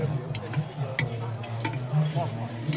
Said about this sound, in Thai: คั่วเมล็ดกาแฟนะครับ